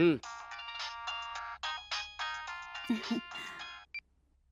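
A phone call ringing out over speakerphone in a Hindi-dubbed Telugu action film, with a repeated bright electronic ringtone pattern in short bursts, a voice briefly cutting in partway through and a short final beep.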